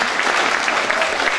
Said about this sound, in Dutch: Applaus voor José Kotter.